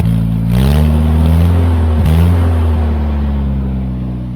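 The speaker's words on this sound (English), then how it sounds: "It's still a bit smoky, I think, when I rev it" A Turner Ranger mini tractor with an A-series engine, running smoky, revs loudly up from idle, dips briefly, then settles into a steady, close mechanical drone.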